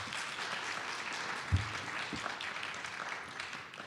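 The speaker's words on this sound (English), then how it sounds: "If you could restrain from any further applause till we get down to the end" Scattered audience applause at a Connecticut 19th district state senate debate, fairly faint and distant, a thin wash of clapping with a couple of sharper knocks.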